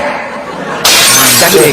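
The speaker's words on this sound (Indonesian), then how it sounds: "Pecahkan piringnya." A plate is smashed, a sudden loud burst of shattering with scattering fragments after a quieter lead-in, with a voice speaking around it.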